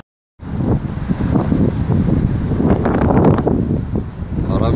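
Strong wind at six meters per second blasts across the Han River during eel fishing, roaring and buffeting the microphone in a loud, continuous rush that begins abruptly after a brief silence.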